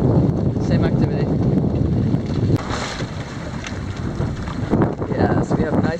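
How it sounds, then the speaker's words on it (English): A sailboat runs in gusty wind, the breeze roaring and buffeting the microphone with surges and lulls over faint water wash, and a voice is briefly audible beneath it. "Yeah, so we have nice sailing going on now."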